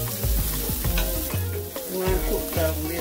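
Vegetables sizzle and fry in a pan over medium heat for rasta pasta, a steady close hiss broken by repeated scraping stirs of a utensil, with no talking.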